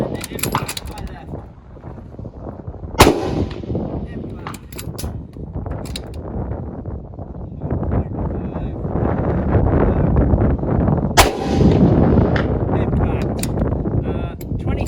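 A bolt-action rifle fires at steel targets outdoors, with two sharp cracks several seconds apart over constant wind buffeting on the microphone.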